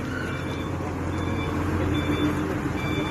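A forklift's reversing alarm beeps repeatedly at a power plant construction site, a steady chain of tones over a low rumble of engines and site machinery.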